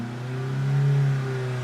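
A Ford Pinto engine with a twin-choke carburettor runs at full throttle on a dyno, producing a loud, steady, close roar whose pitch climbs slightly as it revs.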